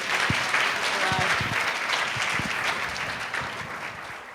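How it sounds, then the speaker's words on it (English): Sustained audience applause for a round of awardees at a 2007 leaders gala, a full, steady roar of clapping from a large room, slowly easing toward the end. "let's just have one round of applause for this round of awardees"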